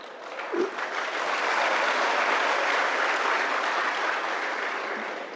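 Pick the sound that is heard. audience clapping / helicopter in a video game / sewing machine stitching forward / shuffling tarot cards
audience clapping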